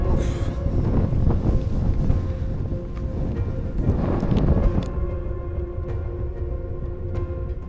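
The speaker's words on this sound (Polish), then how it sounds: "Wiatr z każdą minutą przybierał na sile, a burza niebezpiecznie szybko zaczynała nas doganiać" Strong wind roars and buffets across the microphone as a thunderstorm closes in over slot canyon country, a heavy, continuous gusting rush with low rumbling underneath that eases slightly toward the end.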